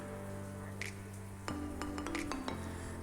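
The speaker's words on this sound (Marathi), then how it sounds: "पेस्ट घालून ताका बरें मिक्स करया." A spoon scrapes and clinks against a pan while ginger garlic paste is worked into silver fish, with a few sharp metallic taps and soft stirring over a faint background hum, close and fairly quiet.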